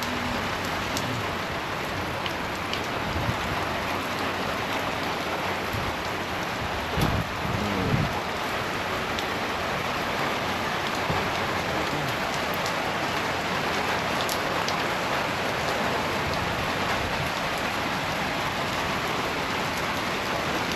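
Steady rain patters heavily on surfaces throughout, with gusts of wind mixed in and an occasional dull thump, no voices.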